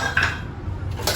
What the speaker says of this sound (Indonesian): ini panci untuk masak nasi atau masak sayur atau masak air juga bisa di sini ya